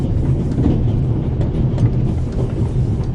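A steady low rumble of the Orient Express steam train running inside its carriages, heard in The Raven video game, continuous and fairly loud with no talking.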